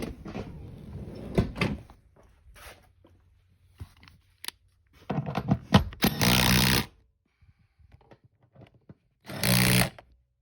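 A power tool drives the seat track bolts in a 2014 Ford F150 cab in two short, loud whirring bursts, with scattered clunks and handling noises between them.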